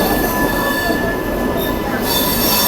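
Express passenger train pulling out of platform 14, its wheels giving a loud, continuous high metallic squeal over steady rumbling, close by and unbroken throughout.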